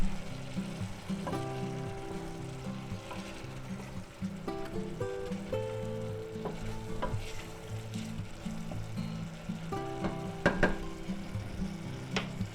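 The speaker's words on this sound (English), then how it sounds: "let's give that a stir" Carrots and celery being stirred into a sizzling soup pot for potato and ham soup: steady frying hiss with scraping stir strokes and occasional utensil clinks against the pot, close and moderately loud.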